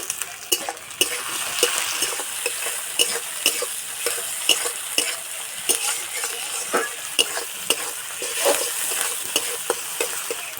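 Chopped tomato stirred into fried onions in a pan, a close, steady sizzle broken by frequent rhythmic scrapes and taps of a spatula against the metal.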